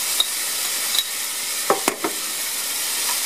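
Strips of beef sizzle steadily in a hot frying pan, a bright continuous hiss, with a few sharp scrapes and clicks of stirring near the middle.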